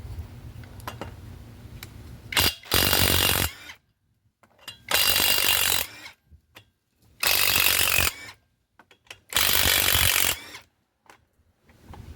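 Ratchet used to remove a tire from a Nissan, four loud bursts of rapid clicking separated by short pauses, close up.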